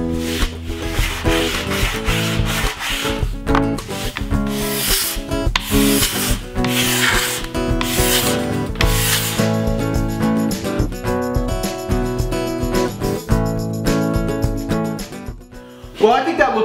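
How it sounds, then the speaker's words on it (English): Fine sawdust mixed with epoxy, used as wood filler on a board, is sanded level with the surface: steady, close abrasive rubbing swells and fades over a constant tonal hum, with brief pauses between strokes. "I domed the fill up a little bit so I could sand it level with the board"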